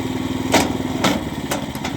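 A mechanical log splitter built in 2018, still working after five years, runs steadily with a continuous engine drone, pulsing in a regular rhythm with a few louder bursts. It is close and loud, with no talk.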